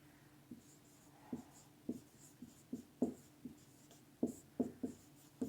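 Chalk or marker writing on a board during a physics lesson, heard as a series of short, crisp taps and strokes in an uneven rhythm, fairly close and alone without talk.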